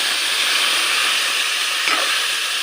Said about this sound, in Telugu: ఇక దొండకాయలు వేస్తా.